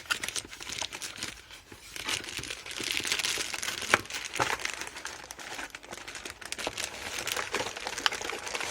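Plastic packaging from a Panasonic EY7412SB cordless screwdriver is crinkled and torn open close by, a steady run of crackling, rustling handling noise with no talk.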